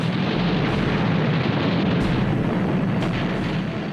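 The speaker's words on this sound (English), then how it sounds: "she took a bomb which penetrated 4 decks before exploding" A bomb blast from a World War II carrier battle in the Pacific roars as a loud, sustained rumbling wall of noise with a few faint swells, no distinct separate bangs, and no voices.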